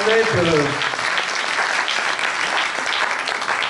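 A crowd at a political meeting in Beauvais breaks into sustained applause, a dense steady roar of clapping, with a voice speaking over its start.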